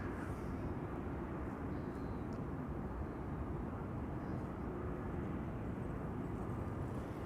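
An airliner taxis toward the runway at Amsterdam Schiphol Airport, a steady, faint jet-engine rumble and hiss holding at a distance without pause.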